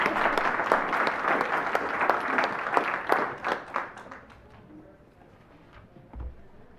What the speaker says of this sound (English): y'all could clap for it